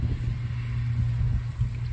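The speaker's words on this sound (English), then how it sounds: "I've got tractors on the field cutting grass, there's the wind, there's planes going overhead" Steady low engine drone of tractors cutting grass on a nearby field, with wind buffeting the microphone and aircraft noise overhead, continuous and fairly loud with no talk.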